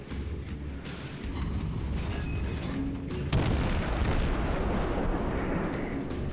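Naval gun salvos from a Chester class cruiser firing armour-piercing shells in World of Warships, heard as a continuous deep rumbling barrage with a sharper boom near the middle, loud and close, with no talk.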